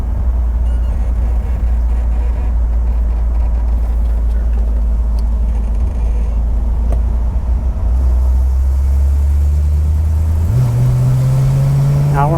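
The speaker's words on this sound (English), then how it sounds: "Now we're in passing gear, Sam." A 1949 Oldsmobile 88 Futuramic with dual exhaust kicking down into passing gear, a loud deep engine drone heard from inside the car that climbs sharply in pitch near the end.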